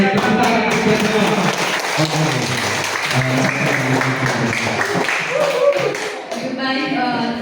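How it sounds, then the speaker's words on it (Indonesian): A group of children at a school health-education session claps together, loud and close, for several seconds while voices talk over the clapping. "Oke, tepuk tangan kita semua."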